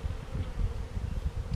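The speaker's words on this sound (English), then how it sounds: "They're field bees. They're not out to rob. They're coming back with stuff." Honey bees buzz around a hive box outdoors with a steady, close, low drone that holds without a break.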